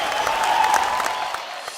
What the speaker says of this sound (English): with a round of applause, please welcome the godmother of film criticism, Anupama Chopra.